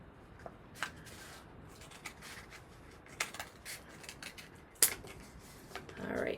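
Scissors snip through a colored paper tube, cutting it in half, giving a few sparse, close, crisp cuts and rustles in a quiet room with no talking.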